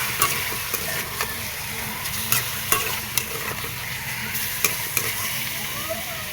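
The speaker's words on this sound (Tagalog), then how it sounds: "Gigisahin natin yung maayos mga bossing. Yan mga bossing, gisang-gisa na yung ating chicken mga bossing." Chicken sautés in a pan for tinolang manok with corn, seasoned with Magic Sarap, giving a steady close sizzle while a utensil scrapes and clacks against the pan in a loose repeating rhythm.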